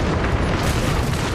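Bangalore's ultimate artillery strike in Apex Legends, a dense rumble of overlapping booming explosions filling the whole moment at loud, steady intensity.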